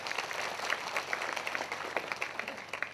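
Steady clapping from a congregation at a Hindi prayer meeting, a dense, even patter of hands heard at a moderate distance for a few seconds.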